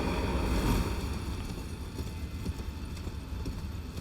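Rhythmic clip-clop of horse hooves trotting in the video game Elden Ring, steady and fairly close, over a windy, breezy background.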